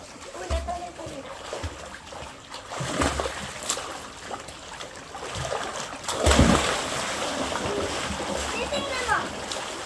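A child splashes while swimming in water, with repeated close splashes and sloshing at an uneven rhythm, one louder burst near the middle, and voices talking intermittently over the water sounds.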